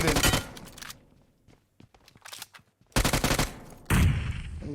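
MG3 machine gun fire in PUBG Mobile comes as loud sustained bursts of rapid gunfire, with quieter gaps holding a few scattered shots and footsteps, and no talk over it.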